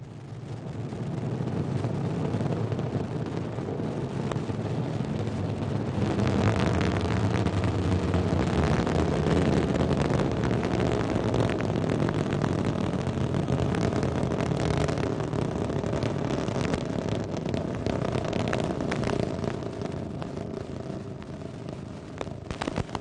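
An Ariane 5 rocket lifts off with a deep, sustained rumbling roar that swells and crackles, heard from a distance as a broad, continuous thunder lasting over twenty seconds.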